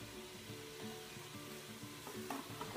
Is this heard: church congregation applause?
no